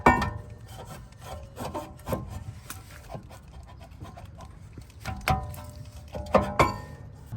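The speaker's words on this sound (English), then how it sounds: "And slip your rotor on." A brake rotor on a 2012-2016 BMW 328i is worked onto the rear hub over tight brake shoes, giving quiet metallic scraping and rubbing with a few sharper clunks and knocks.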